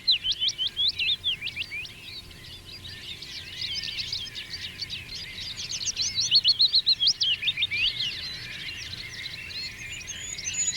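Several birds sing and chirp in quick, high, overlapping phrases, fairly close, with bursts of rapid repeated notes and no voices.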